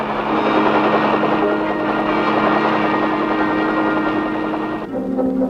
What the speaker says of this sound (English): Keeping the swarms of helicopters airborne so long and so often